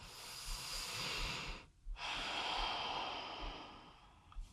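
A person takes a full, deep breath in and then exhales slowly during a low back stretching and self-massage session, close and soft with a brief pause between.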